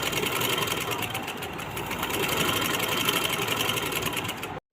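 A sewing machine stitches a kameez in a steady, fast, close whir of needle strokes that runs unbroken, then stops abruptly at the end.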